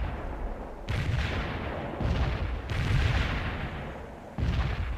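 Rocket launchers firing in the combat game World in Conflict: a series of heavy, booming launch blasts in quick succession, loud and close, with rumbling between the bursts.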